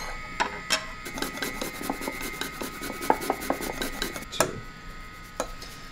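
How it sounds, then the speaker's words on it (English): Fresh ginger is grated in a kitchen, a series of quiet, close rasping strokes in an uneven rhythm with a few sharper scrapes. "And then I'm going to grate some ginger."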